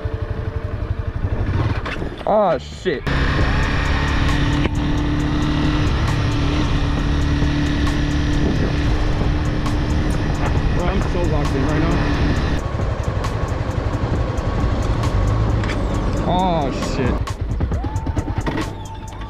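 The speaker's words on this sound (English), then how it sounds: "So this is my very first time ever riding a motorcycle." A Honda CBR 300R motorcycle on a first-ever ride, its engine droning loud and steady with rising and falling pitch as it accelerates and shifts, while the rider exclaims over it.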